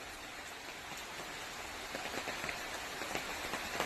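Rain falls outdoors as a soft, steady patter. Individual drops tap more distinctly and a little louder toward the end, and no one speaks.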